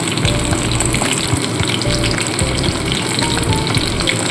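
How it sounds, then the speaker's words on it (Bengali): Steady, dense sizzle of Bombay duck fish frying in hot oil, close up and fairly loud, with a continuous crackling hiss throughout. "লোটে মাছগুলো এপিট ওপিট করে লালচে করে ভেজে তুলে নেব"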